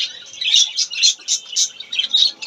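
Caged pet birds chirp in quick bright bursts, several rapid rhythmic calls close by and fairly loud, with no talking over them.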